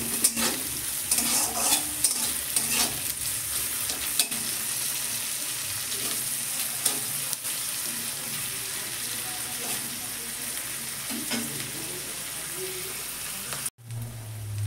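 Finely chopped onion sizzling in a pan with a little salt, a dense steady fry close by with occasional scrapes and clinks of a utensil against the pan, ending in a brief break near the finish.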